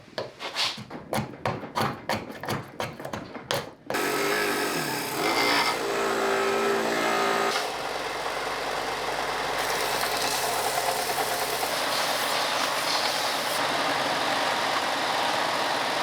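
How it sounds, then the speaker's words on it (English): Steady, close rasping of sanding on a wooden hatchet handle during a rust-to-restored hatchet rebuild, continuous after a few seconds of rhythmic scraping strokes, with a low hum underneath. "I finally sanded this down almost enough to get the axe head on"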